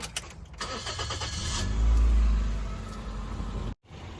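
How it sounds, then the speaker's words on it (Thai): A Toyota Altis 1.8G sedan with a 1ZZ engine cranks and fires up nearby, a short starter whir swelling into a low rumbling catch, then settling as the engine begins to run. "อันนี้ก็ได้ทำการสตาร์ทเครื่องยนต์เรียบร้อยแล้วนะครับ"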